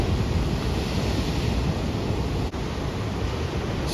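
Ocean surf rolls in at a Puerto Rico break on a sunrise session, a steady broad roar of breaking waves with wind buffeting the microphone, continuous and close, with no voices.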